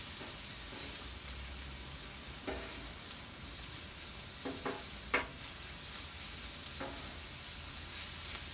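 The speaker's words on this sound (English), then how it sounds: "I really don't want to fry it too much." Corn warms on a Blackstone flat top griddle, a soft, steady sizzle with a few scattered scrapes and taps from stirring, fairly quiet and without talk.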